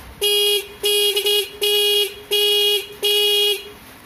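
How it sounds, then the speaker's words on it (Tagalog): A ten-year-old car horn honks five times in steady, evenly spaced blasts, loud and close, each a harsh buzzing tone about half a second long. "ito nga pala ay ang lumang luma ko ng busina na nasa 10 taon na"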